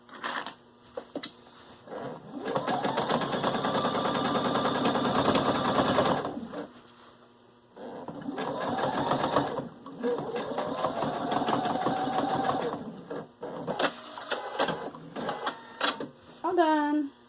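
Home sewing machine stitching a folded jeans hem, close rapid mechanical whirring in several bursts with speedup whines and brief stops, a voice talking over parts of it.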